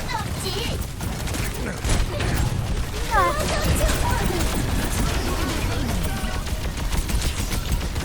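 Gunfire in the Overwatch shooter game, a dense steady barrage of weapon fire and effects with players talking over it throughout.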